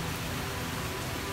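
Steady rain falls in a fruit orchard, a dense, even hiss of drops without a break, close and fairly loud with no voices.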